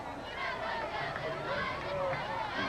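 Homecoming crowd at a 1990 Herndon Hornets high school football game, a dense, steady babble of many voices heard from a distance.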